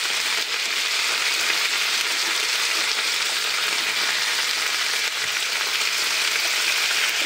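Tomato, peas and green chilli fry with ginger in a pan, giving a loud, continuous, close sizzle with no talk, partway through cooking a cabbage dish.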